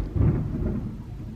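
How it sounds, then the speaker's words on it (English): Thunder rolling outside during a rainy thunderstorm, a brief low rumble that swells early and then fades, with no voices over it. "And it's thunderstorming outside."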